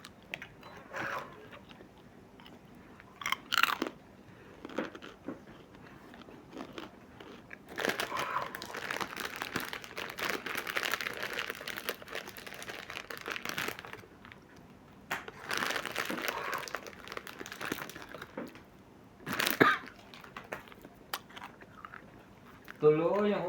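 A person chewing food during a tongits card game, with intermittent crunchy bites and crinkling in bursts, close and fairly quiet, with people talking around them at times.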